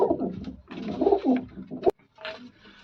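Pigeons coo in soft, throaty bursts, several low rolling calls close by, with a short pause before another coo rises near the end.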